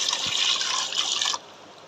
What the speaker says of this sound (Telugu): ఫస్ట్గా నీళ్ళు బౌల్ పెట్టి వాటర్ పోసేసుకున్నాను